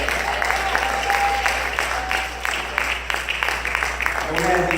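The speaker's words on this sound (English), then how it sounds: "Let's give them a hand clap." A church congregation claps for young men being sent off, a moderate, fairly even patter of many hands over a low hum, with voices mingling faintly beneath.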